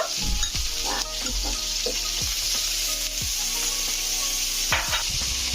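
Meat sauce and butter sizzle loudly in a hot pan while a spoon stirs through them, steady frying hiss with scattered scraping clicks throughout.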